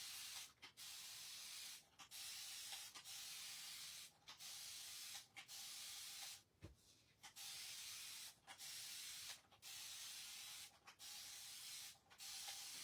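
A spray bottle mists tie-dye fabric in repeated hissing bursts, about a dozen steady sprays, each broken by a brief pause, loud and close.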